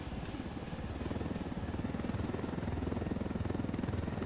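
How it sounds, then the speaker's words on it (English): A helicopter in Ghost Recon Wildlands throbs with a steady, rapid rotor chop over a dense engine roar, loud and continuous for the whole stretch with nobody speaking. "That's another chopper."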